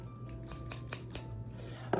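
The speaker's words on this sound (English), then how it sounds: "My scissors." Scissors cutting plant stems: four or five crisp snips at uneven intervals, close and clear over a low steady hum, with no talking.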